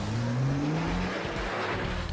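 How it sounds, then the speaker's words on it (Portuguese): A car with ceramic brakes is driven fast and braked hard, one stop after another, on a test track. A loud engine whines downward as it slows, with tire noise underneath. "Você vai fazer uma série de paradas para aumentar a temperatura dos freios."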